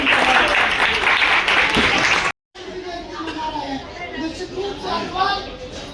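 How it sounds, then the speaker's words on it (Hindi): A crowd at an Agrasen Maharaj Jayanti gathering in Bhopal claps loudly and continuously, breaking off for a moment before the applause resumes with murmured chatter and voices mixed in. "हम जोरदार तालियों से चाहेंगे।"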